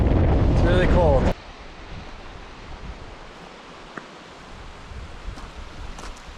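A loud, short blast of wind buffets the microphone on a cold day, then drops to a softer, steady outdoor rush with faint gusts and rustling, beside a stream fed by a waterfall.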